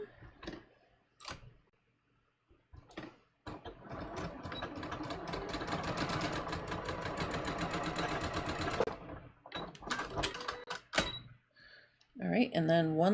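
A sewing machine runs steadily for about five seconds, stitching the seams of a garment facing, framed by quiet handling clicks and a voice talking before and after.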